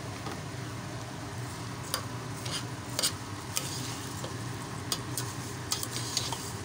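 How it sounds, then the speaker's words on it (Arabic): Rice toasting in a hot pan, with a steady dry sizzle under repeated spoon scrapes and light ticks against the metal as it is stirred, close and continuous, no talking. "شوفي بيتحمص معانا"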